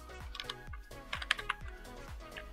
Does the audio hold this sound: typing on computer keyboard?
yes